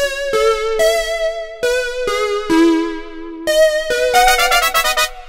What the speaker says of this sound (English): And that brass part has a slap delay to get that effect.